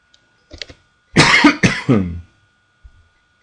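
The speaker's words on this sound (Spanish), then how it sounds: "perdón por la tos" Two harsh coughs close to the microphone, one right after the other, with faint small noises before and after in an otherwise quiet classroom.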